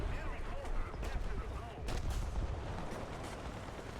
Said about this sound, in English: Mortar rounds are falling.